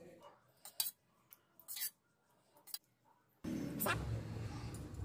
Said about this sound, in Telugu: కాచి చల్లార్చిన పాలు పోసిన తర్వాత కాసేపు కలిపేసుకోవాలి.